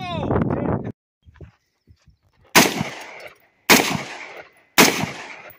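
Three loud rifle shots at an outdoor shooting range in Bee Canyon, spaced about a second apart, each a sharp crack with a rolling echo, after a brief stretch of speech and a quiet pause.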